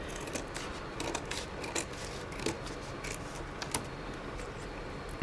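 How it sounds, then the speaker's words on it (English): Scissors trimming fabric edges around a hardback book cover, a close, quiet series of crisp snips and rustles at an uneven pace, with no talk. "now I'll just grab my scissors, just see if I can neaten up the edges a bit here"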